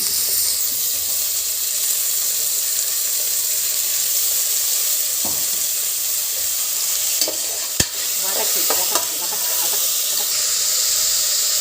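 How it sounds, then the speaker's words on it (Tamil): Onion and tomato sautéing in a pan for Karaikudi mutton curry, a steady broadband sizzle with a few scraping stirs near the middle, close and fairly loud, no talking. "இந்த வெங்காயம் தக்காளி நல்லா வதங்கி இருக்கணுமா"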